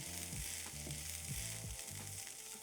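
Half an onion fries with frozen green peas in a hot pan, giving a bright, steady sizzle throughout, with low tonal hum patterns underneath and no voices.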